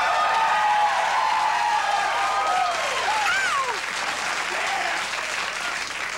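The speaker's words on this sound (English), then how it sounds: "my plan is to get obligatory applause all night long" Studio audience at a New York late-night show applauding steadily throughout, a dense sustained wash of clapping with scattered whoops and cheers.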